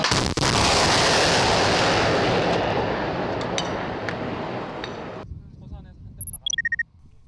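A loud artillery round fired during a live-fire weapons test, a sustained roaring blast and rumble that slowly decays over several seconds, followed by a few short electronic beeps near the end.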